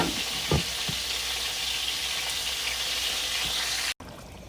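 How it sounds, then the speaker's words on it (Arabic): Vegetables cooking in an onion and tomato sauce base for Iraqi dolma give off a steady, dense sizzle. A few soft knocks sound near the start, and there is a brief dropout just before the end. "احب انا الخضرة تغلي في التسبيكة"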